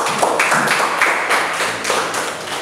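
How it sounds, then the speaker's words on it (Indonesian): A group claps steadily for a few seconds, dense overlapping hand claps that stay even and moderately loud throughout. "Tepuk tangan untuk kelompok visual."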